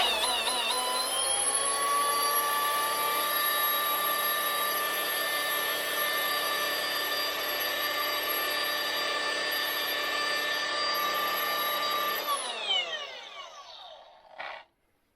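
A polisher fitted with a wool pad spins at 2,000 RPM, giving a loud, steady, close-up whine with a harsh edge for about twelve seconds before it spins down, stops briefly and gives one last short burst, with no talking.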